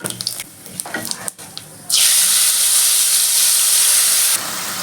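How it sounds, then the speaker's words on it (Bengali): White cumin seeds tempering in hot oil for a vegetarian paneer, potato and cauliflower curry: a few small clicks and taps, then a sudden loud, steady hiss of sizzling that holds for a couple of seconds before dropping back slightly. "আমি হাফ চামচ সাদা জিরে ফোড়ন দিয়ে দিচ্ছি"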